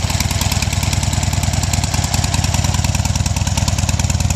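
A 2006 Harley-Davidson Low Rider with slip-on Screaming Eagle pipes, idling close by with a loud, steady, rapid thumping lope that never lets up, and no voices.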